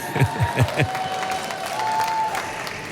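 Applause and light cheering from a commencement crowd, opening with a few distinct loud claps close by and continuing as a steady, moderately loud wash of clapping.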